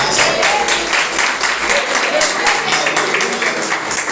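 A church congregation claps in praise, rhythmic massed handclaps with distinct beats, fairly close and loud, with voices mixed in beneath.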